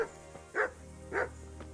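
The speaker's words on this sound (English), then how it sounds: "That dog doesn't seem too friendly." A dog in a video game gives two gruff barks, spaced about half a second apart, mid-distance and moderately loud over a faint low hum.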